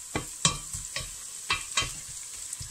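Onions frying in a pan for pisto, with a soft sizzle broken by repeated stirring scrapes and taps of a utensil at an irregular rhythm, close and moderately quiet, with no talk.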